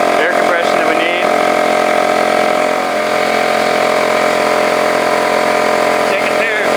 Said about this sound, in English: so let's turn this air compressor on